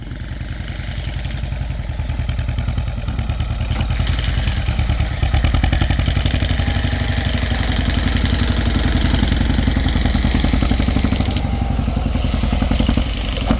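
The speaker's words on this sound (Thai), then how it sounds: "รถไถในตำนานครับคุณปู่ยังไหว" An old farm tractor engine runs steadily at close range, a loud, continuous low chugging with a rattling clatter and no talk.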